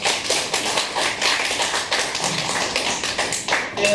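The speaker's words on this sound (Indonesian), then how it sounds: "Tepuk tangan buat semangatnya semua." Clapping for the students at a virtual graduation of a traditional massage course, with rapid, fairly close taps from a few pairs of hands holding a steady, lively pace.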